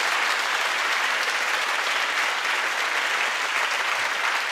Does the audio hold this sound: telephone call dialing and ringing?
no